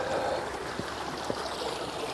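A small waterfall by the Kiski River spills in a steady, close rushing hiss with a few soft gurgles and drips, continuous and alone without talk.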